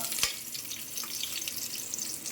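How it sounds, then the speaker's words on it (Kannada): Onions and garlic frying in oil in a pan for a dal sambar, a steady soft sizzle with a crackling hiss throughout and one brief sharp tap near the start, no voices. "ಈರುಳ್ಳಿ ಬೆಳ್ಳುಳ್ಳಿನ ಎಣ್ಣೆಲ್ಲ ಹಾಕಿ ಸ್ವಲ್ಪ ಫ್ರೈ ಮಾಡೋಣ"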